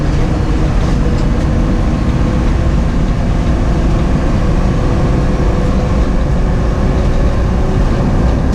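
A loud BMW E30 on new Apex ARC-8 wheels cruises along a freeway, a constant heavy engine drone with road rumble heard from inside the car for over eight seconds, with no voices.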